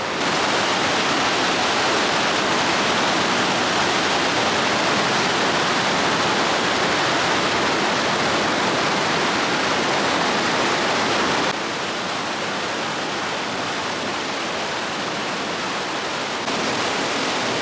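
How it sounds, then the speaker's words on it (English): Blue water rushes steadily through a smooth, carved rock canyon with moss-covered walls in Banff National Park, a loud, continuous roar of flowing water that fills the whole stretch with no voices. "The rocks are carved smooth, just like they are in southern Utah, like I'm used to, but there's blue water running through it."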